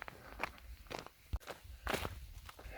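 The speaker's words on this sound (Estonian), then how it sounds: "mööda raudteed minnes on alati see häda, et liiprid on väga ebamugava sammuga" Footsteps crunch along railway sleepers and gravel on a long marathon hike, about two steps a second, close and uneven in rhythm, with no voices.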